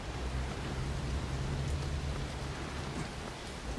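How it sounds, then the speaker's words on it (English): Steady rain pours in a creepy horror game, a dense, even hiss of falling water with a low rumble beneath, continuous and unbroken. "Gotta love rain in these creepy games."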